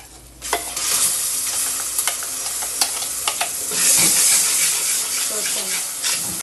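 Ground masala paste tipped into a hot frying pan for a mackerel curry, giving a steady broadband sizzle with stirring scrapes and a few sharp clicks, swelling louder partway through as the paste hits the oil.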